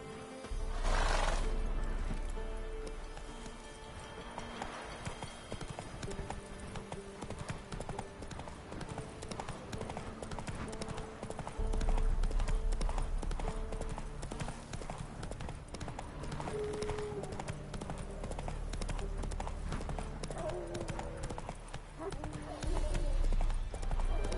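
Roach, Geralt's horse in The Witcher 3, gallops in steady hoofbeats that run through most of the stretch, with game sounds layered over them and a whinny near the start.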